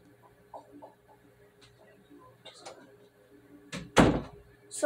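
A door handled during a game session sounds with a sharp knock or slam near the end, after a few soft scattered thumps and faint room noise.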